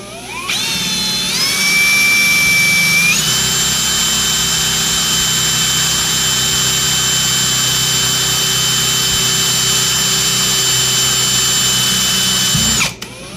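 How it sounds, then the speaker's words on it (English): A loud power drill whines steadily at high speed for about ten seconds, drilling out a float screw on a Farmall 300 tractor carburetor, its pitch rising as it spins up, then cuts off abruptly. "Now I'm going to go ahead and drill through this one"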